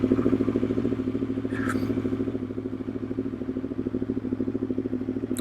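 An MV Agusta motorcycle pulls away with a steady, pulsing engine note that sounds fairly close and moderately loud. A brief clatter or scrape cuts in midway.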